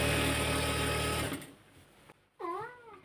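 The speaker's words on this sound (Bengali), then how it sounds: "এই যে চিকন করে একটা সেলাই করলাম" A sewing machine stitches a thin seam on pajamas, running loud and steady for about a second before stopping; after a short quiet pause, a cat meows nearby.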